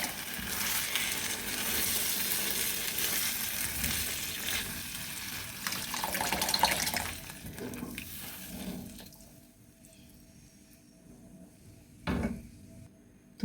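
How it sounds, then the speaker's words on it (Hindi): Chickpea cooking water pours into a pan of fried chickpeas, setting off a loud broad hiss and bubbling sizzle that gradually fades to a quieter simmer with a few clanks of a utensil. "अब मैं इनके अंदर चनों का से निकाला हुआ सूप भी शामिल करूँगी"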